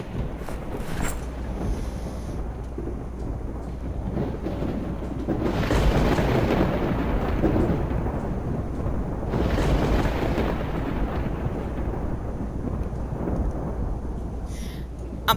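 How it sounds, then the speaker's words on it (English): Thunderstorm in the zombie survival game Project Zomboid, with steady rain and wind under two long rolling thunder rumbles that swell and fade, loud and enveloping, with no talking. "in thunderstorms like this, you can't hear if zombies are busting your stuff a lot of times."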